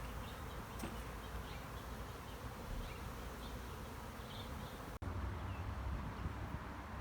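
A honeybee swarm buzzes densely around a hive box, a continuous close insect drone with individual bees passing near, plus a brief handling knock partway through.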